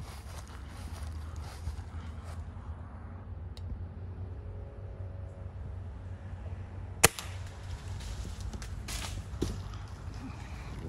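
A .22 caliber air rifle fires a single sharp, fairly close shot at an iguana during a Florida iguana removal hunt, standing out clearly against steady low outdoor background noise.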